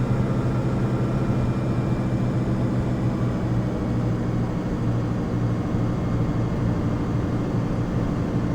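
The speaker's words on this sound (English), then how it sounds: "Put it on the ground at the end of the runway, put those throttles in the reverse" Steady low roar of a Piper PA-28 light aircraft's engine after touchdown at Offutt with the throttle in reverse, a constant rumbling drone filling the cabin without pauses.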